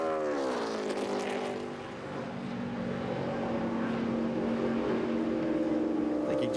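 A NASCAR stock car finishing a qualifying lap at Pocono roars past, its engine pitch falling steadily as it passes, then holds a loud sustained drone as crowd and track noise fill the background.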